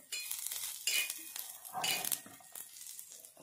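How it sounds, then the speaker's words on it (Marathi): Grated coconut roasting in a little oil in a pan while being stirred, with short scraping and sizzling bursts from a spatula working the mixture, close and moderately loud. "इथे आपण आता परत थोडंसं तेल टाकून घेऊ आणि छानपैकी ते भाजून घेऊ"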